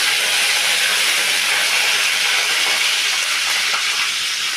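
Mustard seeds spluttering in a generous amount of hot oil for a home-cooked dish, a dense continuous crackling hiss that stays loud and close from start to finish.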